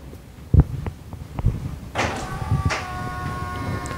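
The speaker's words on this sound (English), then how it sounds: "You notice the mirrors came out." A Porsche Taycan's side mirrors unfold with a smooth motor whir after a couple of soft clicks as the electric car auto-unlocks, close by and moderately loud, with no talk.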